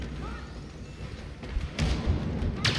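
Grenade blasts in the shooter game Star Wars Battlefront: a couple of short, punchy explosions thump out over constant battlefield noise, one near the middle and another near the end.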